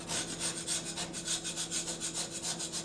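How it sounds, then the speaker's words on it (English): A scraper made from a file ground square scrapes paint and burrs off a metal machine surface, giving quiet, rhythmic rasping strokes repeated at a steady pace of about four per second, close and alone. "So I've ground the end off a file square. It makes a really good scraper. And then you can get in there. You can take the paint off."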